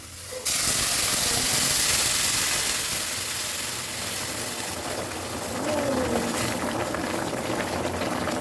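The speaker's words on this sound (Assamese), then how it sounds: "উতলা পানীত দিছোঁ যিহেতু পূৰা উতল আহিছে" Water comes to a full rolling boil in a pot for a taro root and fish curry, a loud continuous hiss and bubbling roar that starts abruptly and holds steady throughout.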